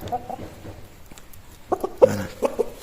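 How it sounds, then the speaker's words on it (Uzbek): A healthy, sturdy rooster gives a few short, close clucks and throaty calls in irregular bursts, louder toward the end, with no crowing and no voices. "yaxshi baquvvat xo'roz ekan."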